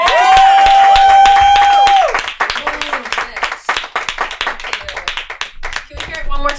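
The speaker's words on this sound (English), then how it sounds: "Give a round of applause for Audrey Froman." At a live comedy show, a comedy club audience claps and cheers for the comedian Audrey Froman, starting with a loud sustained whoop and then dense scattered clapping with voices mixed in.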